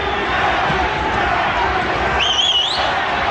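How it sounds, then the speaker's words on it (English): A boxing arena crowd at a WBC super bantamweight title fight chants a fighter's name, a steady roar of many voices with a brief whistle rising above it near the end. "The crowd is shouting Banke, Banke."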